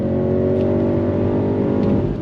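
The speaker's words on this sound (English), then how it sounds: "ZF transmission just fires off the shifts" A 2025 BMW X6 M60i sport SUV with a ZF transmission pulling hard under acceleration, its engine a loud, steady close roar with a slight rise in pitch across a brief burst.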